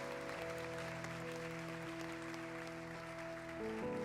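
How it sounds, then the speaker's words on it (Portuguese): A church congregation applauds during a Quadrangular church service, with a faint bed of clapping beneath sustained organ or keyboard chords that dominate the sound. "Você pode aplaudir mais forte ao Senhor."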